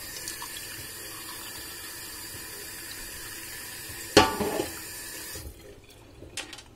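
Tap water runs steadily into a glass with a bright, hissing splash, then a sudden clink and a sputter as the flow stops, leaving quieter drips and small kitchen sounds.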